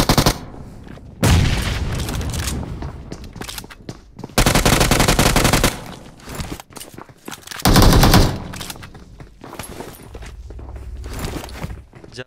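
Rapid bursts of automatic gunfire from a video game, loud and close, broken by quieter stretches of footsteps and movement.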